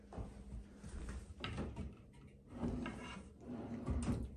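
Bathroom vanity drawers in a modular home open and close, giving several soft sliding rumbles and muffled knocks in a quiet room.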